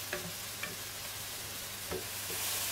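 Mushrooms and bacon frying in oil in a pan, a soft steady sizzle with a few brief scraping stirs of a utensil, quiet and close.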